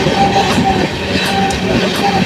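The 12837 Puri Superfast Express running near 100 km/h after leaving Kharagpur, heard from aboard as a loud, continuous rumble with faint rhythmic wheel clatter over the rails.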